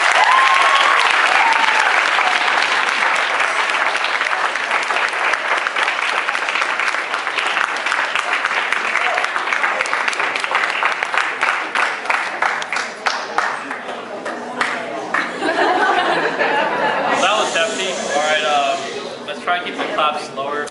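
Audience clapping at a debate on gay marriage, a loud dense burst of many hands that thins into scattered sharper claps toward the end.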